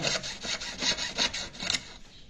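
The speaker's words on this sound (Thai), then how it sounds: "เลื่อยเลยนะครับ" A hand saw blade rasps back and forth through a metal finger ring being cut for resizing, a quick regular run of about eight gritty strokes, close and steady, fading at the end.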